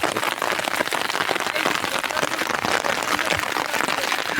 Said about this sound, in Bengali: দেখো কী হারে বৃষ্টি হচ্ছে